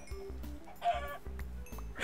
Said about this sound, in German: Da sind Hühnchen.